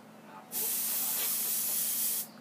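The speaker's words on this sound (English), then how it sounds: "this is going to be more of an airbrushing video than a sketching" An airbrush sprays paint onto a comic book cover, a steady close hiss that starts abruptly, holds for nearly two seconds and cuts off, with no talking.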